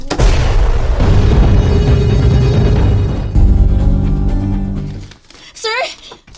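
A grenade goes off with a loud, sustained, rumbling blast that fills the scene, while shouting voices continue over and after it as the roar fades.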